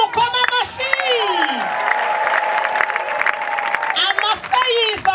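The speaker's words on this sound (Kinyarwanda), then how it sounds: "Aba turi kumwe mukoma amashyi." An audience clapping together in a continuous patter that sits under raised voices calling out, fairly loud and close throughout.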